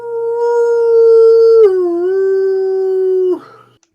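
A wolf howls in a sound effect, one long loud sustained howl that dips in pitch partway through, then breaks off abruptly near the end, alone with no talking.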